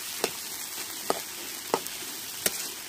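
Onion and garlic frying in a pan for a Bengali fish-head murighonto, a steady soft sizzle with a few sharp stirring clicks at intervals, close and moderately quiet, no talking.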